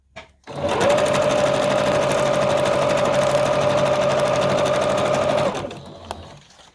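A sewing machine stitches a fabric collage in one long, loud, steady run of rapid mechanical whirring and needle chatter, slowing to a stop near the end.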